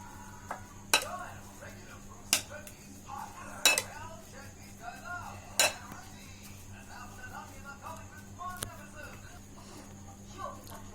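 Bread mixture being stirred in a bowl, with a spoon clinking and tapping against the side in irregular sharp knocks over soft scraping, alongside a steady low background hum.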